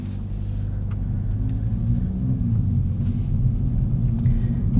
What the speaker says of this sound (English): Let's go for a drive and see what this is like behind the wheel